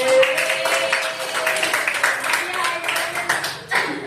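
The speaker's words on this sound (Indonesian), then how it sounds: "Beri tepuk tangan dulu dong" A classroom of students claps in a brief round of applause during a lesson, with a steady patter of hands mixed with voices and chatter close by.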